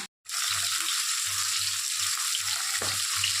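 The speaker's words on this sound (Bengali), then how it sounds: "আমি মাছগুলো ভেজে একে তুলে দিচ্ছি" Bata fish sizzles steadily in hot oil in a pan, a loud, continuous crackling hiss that starts after a brief silent moment and runs on with soft low bumps underneath.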